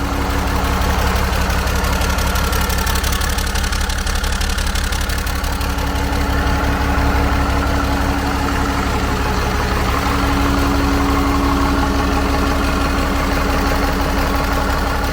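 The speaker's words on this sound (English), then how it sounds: "Steven, crank it up" A 12-valve common rail Cummins diesel engine idles steadily and loudly up close, a continuous low rumble with a faint knocking texture running throughout.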